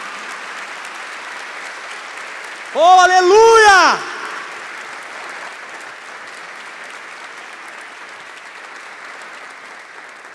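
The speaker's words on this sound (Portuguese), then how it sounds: "Será que você pode aplaudir bem forte o nome do Senhor?" A church congregation applauds with a continuous crowd of clapping hands throughout, while a voice briefly shouts an exclamation over it near the beginning.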